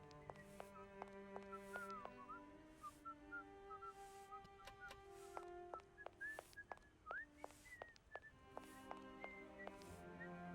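Someone whistles a wandering tune in the video game Syberia, with short rising and falling notes over a quiet musical background of sustained tones and plucked accents, faint overall and with no talking.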